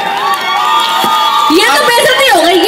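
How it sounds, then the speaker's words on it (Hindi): The bride's side cheers and whoops at an Indian wedding during a jaimala garland ceremony. Loud, close voices shout and rise in pitch, a continuous excited crowd noise that swells toward the end. "सो गाइस एक बार तालियां हो जाए लड़की वालों की तरफ से।"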